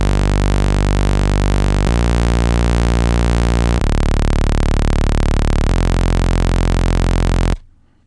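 A sustained synthesizer playing four held chords in succession, each changing roughly every two seconds, loud and steady, ending abruptly.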